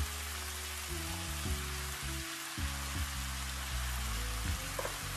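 Rice noodles with vegetables and mushrooms fry in a pan, a steady close sizzle with crackling spatter and faint stirring knocks, no voices.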